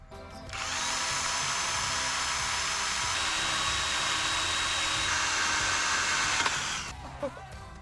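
A power drill running in reverse bores steadily through the steel wall of a shipping container, making a loud, continuous whine for about six seconds before it cuts off.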